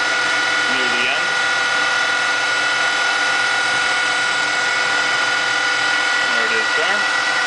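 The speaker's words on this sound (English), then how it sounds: "I'm just going to taper it near the end." CNC lathe with an 8-position tool turret turning a taper near the end of a workpiece, a steady mechanical whine with tonal hum running throughout, with brief soft voice-like sounds near the start and end.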